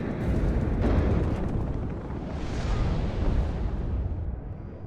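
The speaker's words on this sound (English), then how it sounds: "You can see the cluster mortar fired there from somewhere." Cluster mortar fire in the WARNO battlefield crackles as a sustained rumble of overlapping explosions and bursts for several seconds, distant and broad, with no voices over it.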